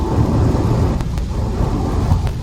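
Steady rain pours outdoors with a dense, continuous wash of noise, loud and close, with low rumbling texture underneath and no speech.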